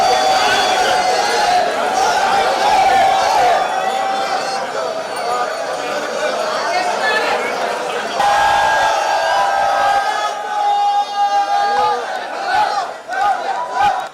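A festive crowd whoops and cheers during the flag-hoisting ceremony opening a temple Pooram festival, loud, dense and sustained, with shouting voices and chanting mixed throughout.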